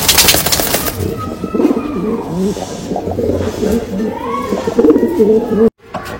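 Rampuri pigeons coo in low, rolling, overlapping calls close by, forming a dense continuous murmur with occasional louder throaty notes.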